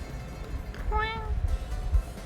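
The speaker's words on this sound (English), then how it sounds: "She went meow, so then I answered." A cat gives one short, clear meow close by, heard over rumbling background noise during RV travel.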